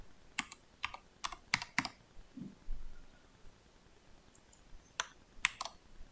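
Keys tapped on a computer keyboard during desktop publishing work, a quick run of five crisp clicks, a pause with a soft thud, then a few more keystrokes, close and fairly quiet.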